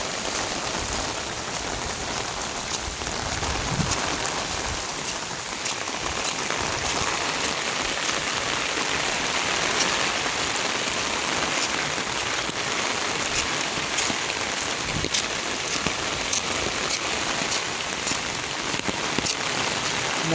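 Heavy rain pours steadily on surfaces in a dense, constant hiss that stays even and fairly loud throughout, with no voices.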